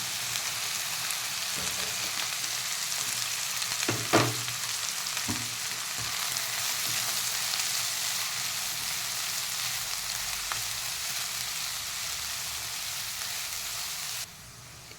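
Cumin seeds sizzling in hot oil for a Gujarati brinjal bharta (ringan no oro), a steady soft frying hiss throughout with a few stirring clinks, then cutting off near the end.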